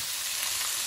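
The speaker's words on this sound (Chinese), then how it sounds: "倒入木耳和黄花菜， 继续翻炒一两分钟" Wood ear mushrooms and daylily buds stir-fried in hot oil for a vegetarian saozi noodle topping give off a brief, steady, close sizzle with no voices.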